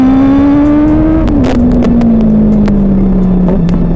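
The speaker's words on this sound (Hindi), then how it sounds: "गियर में गाड़ी स्टार्ट।" Benelli 600i sport motorcycle pulling away after starting in first gear, the engine revving loud and close in a sustained rising then gear-shifted drone, alone without talk.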